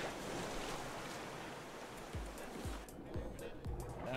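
Ocean water in the video game Raft washes steadily in a broad, hissing surf, with a few soft low thuds toward the end, quiet and continuous.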